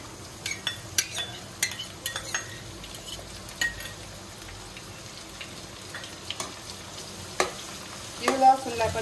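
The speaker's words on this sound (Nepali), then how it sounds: "अब म यो चप गरेको लसुन पनि फ्राई गर्न लागिरहेको छु" Chopped garlic fries in a pan with a steady close sizzle, and scattered clinks of a utensil stir against the metal.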